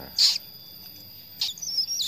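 A tiny one-day-old cockatoo chick gives three short, high-pitched peeping calls, close and fairly faint, separated by quiet pauses.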